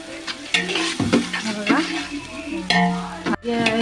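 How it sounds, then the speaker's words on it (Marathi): Chopped onion fries and sizzles in oil while a spoon stirs it in a pot, with steady crackling and repeated scraping strokes throughout, close and fairly loud, for a raw jackfruit curry cooked over a village wood-fired stove. "आता आपण जो कांदा चिरून घेतला आहे भरपूर सारा तो पण टाकूया आणि तेलामध्ये व्यवस्थित नरम व्हायला द्यायचा आहे"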